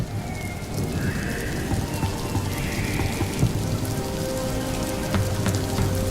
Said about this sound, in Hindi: अरे बारिश बढ़ती जा रही है, ठंड भी लग रही है